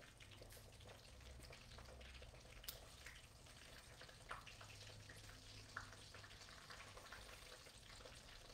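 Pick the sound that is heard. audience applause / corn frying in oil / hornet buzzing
corn frying in oil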